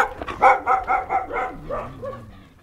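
A pack of community camp dogs barks in a quick run of about six overlapping yaps and woofs, close and fairly loud, then trailing off into softer whines and whimpers.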